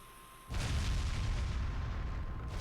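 Explosions in the video game Ys IX: a loud, deep boom erupts after a brief quiet lead-in and rolls on as a sustained rumbling blast, no talk.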